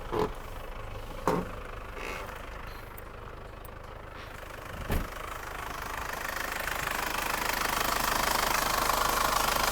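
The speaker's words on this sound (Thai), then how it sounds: "ไปฟังเสียงเครื่องกัน" An Isuzu Dragon 2.5 pickup engine idles with a steady, low diesel rumble and ticking knock, after a couple of sharp knocks at the start; the idle grows slightly louder toward the end.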